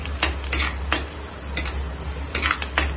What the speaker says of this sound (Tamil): வெங்காயம் கொஞ்சம் பிங்க் கலரா மாற வரைக்கும் வதக்கிட்டே இருக்கணும்